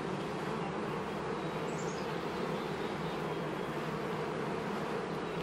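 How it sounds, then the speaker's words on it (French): Honey bees swarming over a hive frame during a beekeeping inspection make a dense, continuous buzzing drone, close and steady throughout with no voices. "je vais shaker les abeilles pour pas qu'elles soient dedans"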